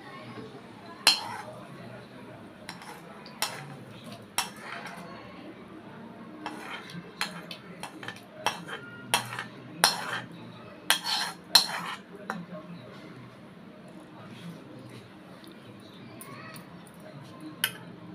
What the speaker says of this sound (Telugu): ఇప్పుడు తాలింపుని పచ్చడిలో కలుపుకుందాం.